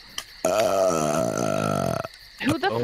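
A person's burp is imitated by a voice: one long, drawn-out belch-like tone of about a second and a half, loud and close, followed by a short gurgling croak.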